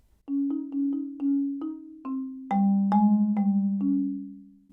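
A mallet percussion instrument plays measure nine of a solo etude, a run of short struck notes followed by longer rolled and sustained tones ringing clearly, close and alone.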